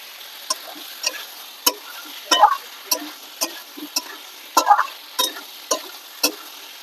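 Mutton sautés in a pan with fried potatoes, cooked without onion or garlic. Sharp spatula clinks against the pan sound at irregular intervals over a faint, soft sizzle.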